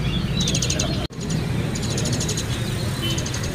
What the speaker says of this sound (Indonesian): Ready juga di kios ini burung jalak suren anakannya ya.